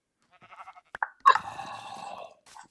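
Sheep in the video game Minecraft, a short series of bleats, a few quiet wavering calls followed by a louder, longer bleat and a brief final one, close and clear against silence.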